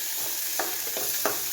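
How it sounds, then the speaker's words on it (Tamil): Boiled carrots and green peas sautéing with onions in a pan for samosa filling, a soft steady sizzle broken by a few quick scrapes of stirring, close and alone. "இது கொஞ்சம் நல்லா லேசாக பொன்னிறமாக வதக்கிக்கிடுவோம் வேக வச்சதை."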